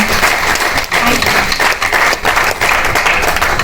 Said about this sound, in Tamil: ஸோ ப்ளீஸ் இந்த கைத்தட்டல் மட்டும் கொடுத்துருங்க